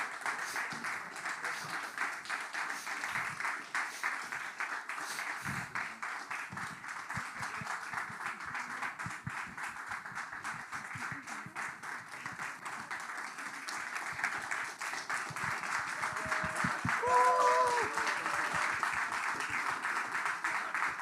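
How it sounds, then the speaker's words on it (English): Sustained audience applause at the Linux App Summit 2022 conference, honouring the event's volunteers, a steady wash of many hands clapping across the room that swells slightly louder near the end, with faint voices mixed in. "we want a huge round of applause for you"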